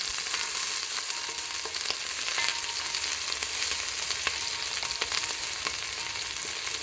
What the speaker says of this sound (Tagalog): Bawang, luya, at saka sibuyas yan. Igisa natin siya.